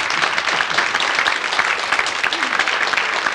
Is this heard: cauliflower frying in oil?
no